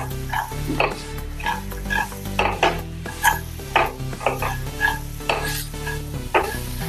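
Hara bhara kabab mixture is stirred in a pan with loud, rhythmic scrapes roughly every half second over a light sizzle, close and without voices.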